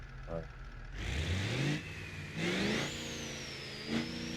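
A turbocharged truck engine in the driving game BeamNG.drive revs up and down in a few rising and falling pulls, loud and close, with a whistling turbo-like whine on top and a voice talking over part of it.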